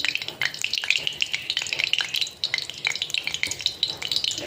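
Bright, crackling sizzle of onions frying in hot coconut oil, close by, with irregular stirring clinks and scrapes throughout.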